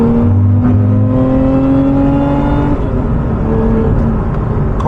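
A 2024 Lotus Emira V6 engine sings through clear harmonic tones that shift in pitch as the car drives, then settle into a dense, loud rumble. No one speaks.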